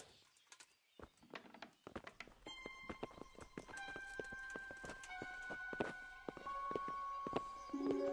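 Horses' hooves clip-clop in a medieval Bohemian game scene, the steady clopping building over several seconds beneath layered music and ambient sound, moderately close.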